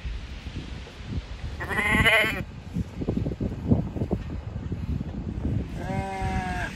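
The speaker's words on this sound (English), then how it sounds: "These sheep aren't bothered by us at all. Look how close they are." Sheep bleating close by beside a road in the Welsh valleys, two clear bleats a few seconds apart over steady low rumble and outdoor background noise.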